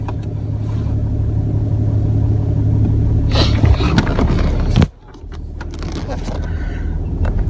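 Range Rover Sport TDV6 diesel pulling away, a steady low engine rumble with rising drone and rattles, an abrupt drop around five seconds as the tone shifts, then continuing quieter.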